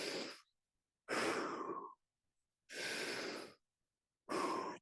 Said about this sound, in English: Exhale, and we do 6 deep breaths here.